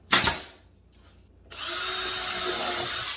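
Power drill working cedar fence pickets for a raised garden bed, a short sharp burst followed by a pause, then a steady sustained whine of the drill running for over a second, close and alone.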